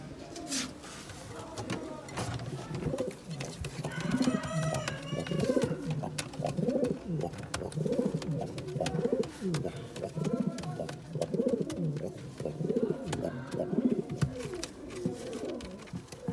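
Pigeons coo in a loft, with repeated throaty rolling coos from several birds overlapping close by, continuous and fairly loud, while a person speaks in between.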